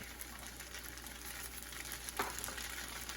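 Spinach and parmesan pasta sizzles steadily as it is tossed in a hot pan, a continuous close frying hiss with a brief clink of a utensil near the end and no voices.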